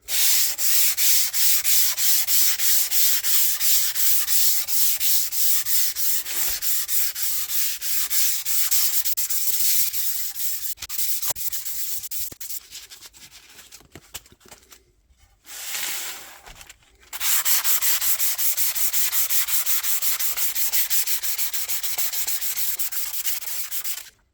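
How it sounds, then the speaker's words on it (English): Steady hand sanding on a northern ash guitar body to remove excess grain filler, a continuous rhythmic rasping scrub that pauses briefly twice before resuming, close and fairly loud. "So just going to be a light sand to get all the excess Timbermate off"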